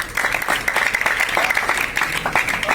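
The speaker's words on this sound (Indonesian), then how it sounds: "Tepuk tangan sekali lagi." An audience claps at a donors' visit in a sustained burst of applause, loud and even from start to finish.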